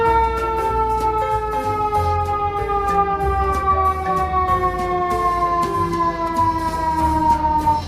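Toy ambulance siren wailing in a steady repeating electronic pattern, fairly loud and close, heard alone without talk.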